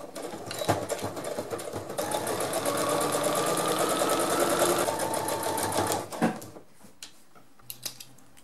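Sewing machine stitching the fabric of a small backpack, a fast steady mechanical whirr running several seconds close up, then stopping, followed by a few faint clicks and handling noises.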